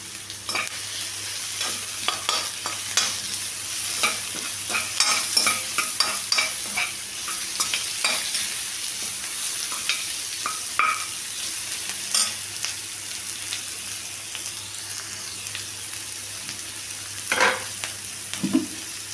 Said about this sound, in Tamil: வெங்காயம் இந்தளவு வதங்கின உடனே அதில் கருவேப்பிலை சேர்த்துக்கலாம்